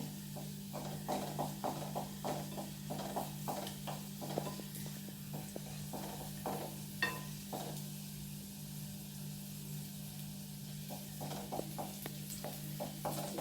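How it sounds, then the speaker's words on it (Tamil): Garlic sautés in a pan over a low flame for coconut podi, with a soft steady sizzle under a run of rhythmic, close scraping stirs and no voices. "பூண்டு இந்த மாதிரி வதக்கிடலாம்"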